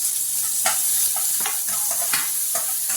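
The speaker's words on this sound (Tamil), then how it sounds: "இது நல்லா இந்த மாதிரி வதங்கணும்" Onions sizzle steadily in a hot pan with a constant frying hiss, while a spoon scrapes and stirs at regular intervals.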